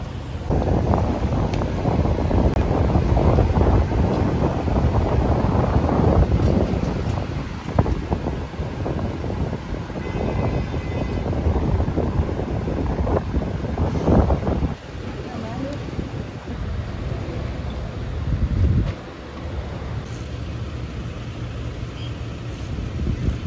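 Wind buffets a microphone beside a road where a car has broken down, heavy rumbling gusts that surge and ease, loudest early on and dropping briefly near the end, with faint traffic and voices in the background.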